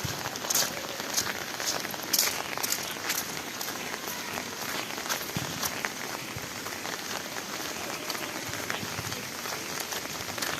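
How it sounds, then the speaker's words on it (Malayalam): Light drizzle falling in Kannur, Kerala, a steady fine patter of raindrops on surfaces, fairly close and continuous, with no talk. "ഇപ്പോൾ തൂളുന്നുണ്ട്, മഴ തൂളുന്നുണ്ട്."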